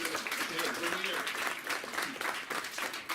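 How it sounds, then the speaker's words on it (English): Audience applause at a writers series reading on a college campus, a steady round of clapping throughout with overlapping voices and cheers mixed in. "Yes, I'll give a round of applause."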